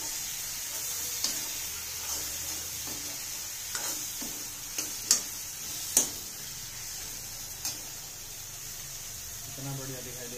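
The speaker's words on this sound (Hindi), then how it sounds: "अब इसको मिक्स करेंगे बढ़िया तरीके से" Food stirred and mixed in a pan during home cooking of an evening meal, with a steady soft sizzle and scattered light clicks and scrapes of a utensil against the pan. A brief voice sounds near the end.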